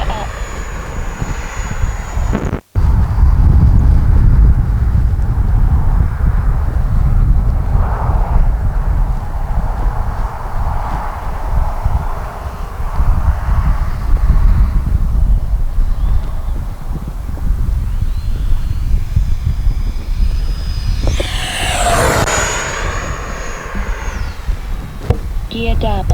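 An FMS Avanti S 70mm 6S RC electric ducted-fan jet on its maiden flight, a continuous loud whooshing turbine roar that swells and fades as it passes, with a rising whine sweeping up near the end.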